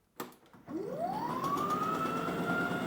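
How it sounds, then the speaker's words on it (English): A Toro Power Max e24 60V electric two-stage snow blower motor spins up after a click, its whine rising steadily in pitch and then holding a loud, steady hum close by. "If you got more snow, then you keep it where the motor revs faster."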